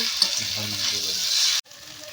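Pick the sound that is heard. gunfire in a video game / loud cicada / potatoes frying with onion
potatoes frying with onion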